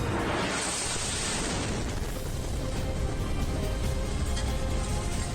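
A missile strike in Kyiv picked up on a mobile phone: a loud, continuous roaring wash of blast noise with a rumbling low end that fills the whole clip, and no voices.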